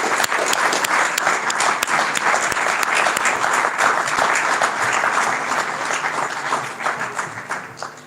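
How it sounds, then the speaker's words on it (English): Audience at an indoor community gala in Malaysia breaking into loud, sustained applause, a dense patter of many hands clapping that tapers slightly toward the end. "let's give a big round of applause to the Moonman of India, Dr. Mailswamy Annadurai."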